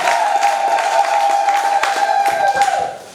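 A church congregation claps and cheers together, a dense sustained wash of applause with crowd voices and a steady organ or keyboard tone underneath, fading near the end.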